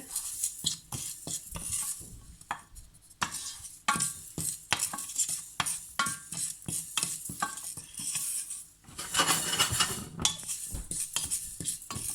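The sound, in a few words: prawns frying on medium heat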